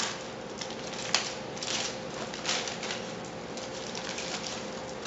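Crinkling and rustling as eight layers of aluminum foil are peeled open from a bowl of chicken Alfredo resting on a platter, with a steady papery crackle and a couple of sharper crinkles, close and fairly quiet.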